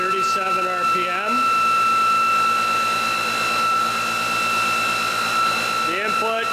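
A motor system spinning steadily at 3,337 RPM in an EV drive motor test rig gives off a constant, loud high whine with steady harmonic tones, while someone talks over it.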